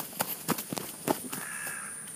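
A crow caws several times outdoors, harsh, fairly distant calls in an uneven sequence over a faint steady background hum.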